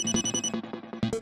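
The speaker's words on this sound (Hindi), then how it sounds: "दया का फोन आ गया।" A telephone rings in a home in a Hindi TV comedy, a quick run of bright electronic ringtone tones repeating in a short rhythmic pattern, close and clear with no talk.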